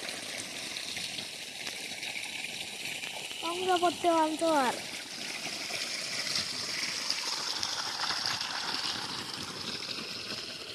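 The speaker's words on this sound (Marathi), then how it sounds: "इकडचं पाणी झालं आहे, म्हणून आता इकडं गव्हाला पाणी चालू आहे" Irrigation water runs steadily into a wheat field on a village farm, a constant rushing wash throughout, with someone talking briefly over it near the middle.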